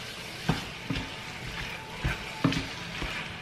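Hokkien noodles, pork and vegetables sizzle and stir-fry in sauce, with a steady frying hiss broken by repeated scraping stirs and tosses, close and fairly quiet, with no talking.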